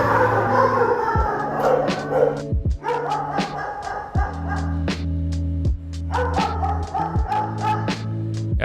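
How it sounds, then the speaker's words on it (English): Many dogs bark, yip and whine at an animal shelter, the Austin Humane Society, in a loud, overlapping chorus of repeated barks close by, with a few brief gaps between bursts. "I got some audio footage of the dogs"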